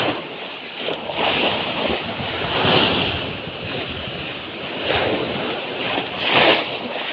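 Sea waves at a very high tide roll and wash ashore in repeated surges, loud and close, mixed with gusty wind buffeting the microphone and no talk.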